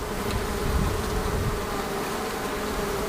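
Honeybees buzz steadily from an open hive during a spring inspection, a dense, continuous hum close by with no voices.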